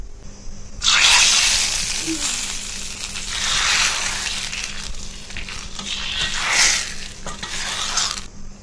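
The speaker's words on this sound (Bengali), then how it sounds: "তেলটা গরম হয়ে গেলে 2টো শুকনো লঙ্কা দিয়ে দেবো, কারি পাতা আর 1 চিমটি পরিমাণ হিং।" Two dried red chilies, curry leaves and a pinch of asafoetida hit hot white oil for rasam, producing a loud, steady sizzle that swells and eases for about eight seconds before stopping abruptly.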